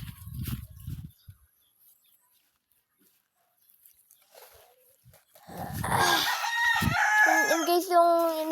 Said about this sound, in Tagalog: Yung manok guys.